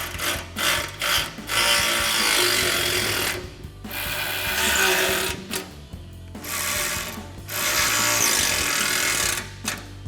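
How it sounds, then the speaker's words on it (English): A 5mm Allen wrench tightens nuts and bolts on a full-width steel front bumper during installation on a 2021-2024 Ford Bronco. Close, repeated metallic clicking and ratcheting comes in several bursts with short pauses, and no one speaks. "tighten them all down with a 5mm Allen wrench"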